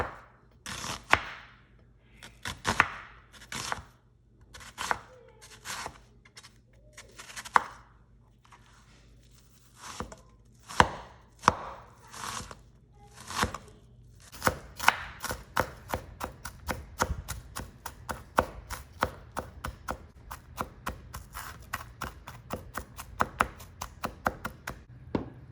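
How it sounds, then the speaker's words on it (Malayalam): Knife thinly slicing onion on a cutting board, a run of crisp chopping taps that starts spaced and slower, then speeds into a fast, even rhythm of close, sharp cuts with no talking. "സവോള തീരെ കനം കുറച്ച് അരിയണേ"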